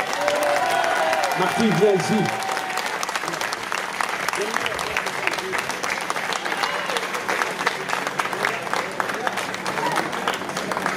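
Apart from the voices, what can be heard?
audience applause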